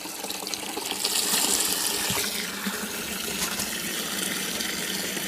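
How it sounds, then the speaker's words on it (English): Cold water runs steadily into a beer fermenter as part of a budget home brew, a continuous splashing gush that swells in the first second and then holds close and even with no talk. "I'm just adding the cold water to the fermenter to get the correct volume."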